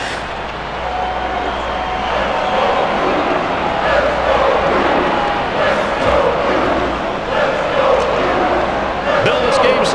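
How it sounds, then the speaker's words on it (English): A home arena crowd roars continuously in an NHL 2K5 hockey video game, loud and sustained with scattered thuds and clacks, while play-by-play commentators talk over it. "This home crowd's not going to let it go."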